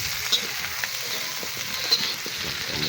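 Onions sizzle and crackle in a hot pan while being stirred, a steady frying hiss with small scraping accents, close and moderately loud, no voices.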